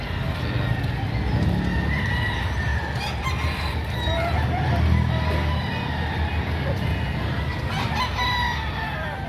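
Roosters, including a full stag, crow repeatedly at a busy chicken market in Padre Garcia, Batangas, several overlapping calls near and far above a dense crowd murmur and clucking, with people talking.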